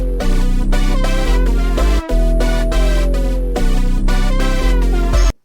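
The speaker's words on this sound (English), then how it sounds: "After the chorus, I added this crushed oscillated lead, so with the melody it'll sound like this." A crushed, bit-reduced oscillating synth lead plays a melody over a jazzy beat made in FL Studio, with sustained stepped notes and one gliding note, loud and upfront, ending with a sudden cutoff.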